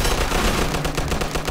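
Rapid machine-gun fire in the Mafia 2 video game: dense, loud bursts of rattling shots that settle into a steady rhythmic volley with no voices.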